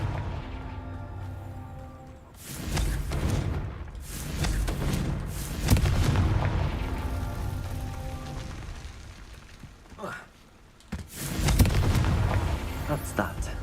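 In the video game Hogwarts Legacy, the Confringo blasting spell goes off in several deep, booming explosions with rumbling tails, loud and spaced across the moment, while game music and voices play underneath.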